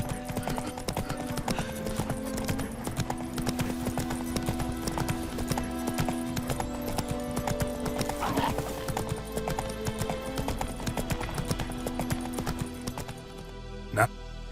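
Roach, Geralt's horse in The Witcher 3: Wild Hunt, gallops with rapid, even hoofbeats throughout, mixed with game music and tack jingles, ending in a sharp thump as the gallop stops.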